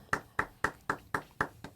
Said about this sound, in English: humble claps right there